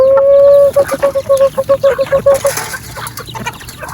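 A chicken gives one sustained, drawn-out call, then breaks into a rapid run of about a dozen evenly spaced clucks that trail off, loud and close against faint background noise.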